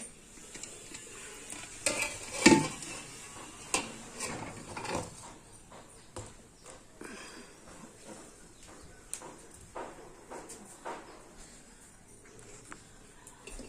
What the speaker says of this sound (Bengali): চলো এখন সুন্দর করে ভাজা করে নিই।